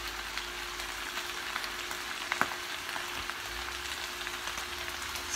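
Cooked, drained lo mein noodles frying in a hot pan make a soft, even crackling sizzle with a faint hum underneath and a single brief clink midway; no talking.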